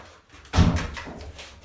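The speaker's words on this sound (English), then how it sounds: "This is our front door." A house's front door shuts with a single solid thud, followed by a short settling rattle, close and moderately loud, with no talking over it.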